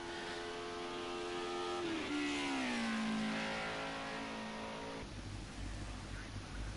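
Racing car engine in a sim racing game, a Group A touring car at Rouen Les Essarts, loud and close as it works through the final corner: a sustained harmonic whine that dips in pitch as it slows, then climbs again before cutting to rougher noise.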